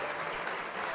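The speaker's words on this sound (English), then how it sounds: "We'll give a round of applause for that." Round of applause, dense and steady clapping throughout a short burst, moderately loud with no voices on top.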